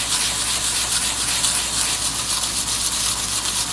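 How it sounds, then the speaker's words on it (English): A stone seal rubbed in circular movements on sandpaper, a steady, loud gritty scraping that continues without a break, close up and with no talk. "You have to do this in circular movement. And then I use a finer sand to polish it."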